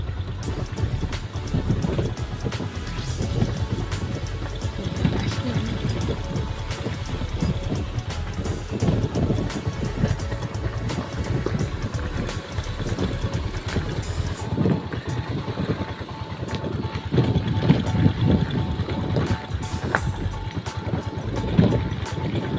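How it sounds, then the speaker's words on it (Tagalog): Water pours down at Bolinao Falls 2 in a strong current after a storm, a steady, close, broadband roar that continues unbroken throughout with no voices. "Tubig na galing sa falls."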